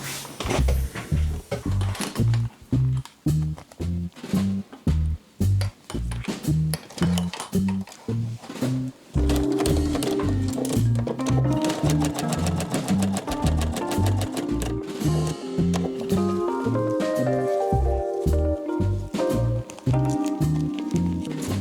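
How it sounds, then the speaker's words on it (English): A sewing machine stitching through plastic, running in quick rhythmic bursts with short stops at first, then a long continuous fast whirr of stitching, loud and close with no voices. "then we will start sewing"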